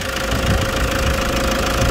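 A 2014 Toyota Fortuner TRD Sportivo with a 2500 cc D4D diesel engine idles at an auction open house with a steady, loud, dense diesel clatter and rumble, close up and without voices.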